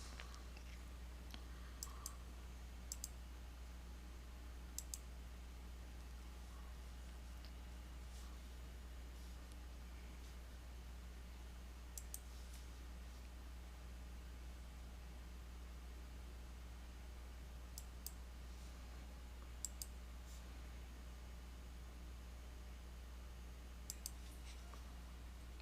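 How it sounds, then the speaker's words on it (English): Sparse, faint computer mouse clicks sound in small clusters of one to three over a steady low hum, spaced several seconds apart. "click on the blue process button"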